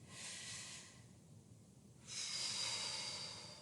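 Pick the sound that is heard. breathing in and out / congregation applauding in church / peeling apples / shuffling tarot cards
breathing in and out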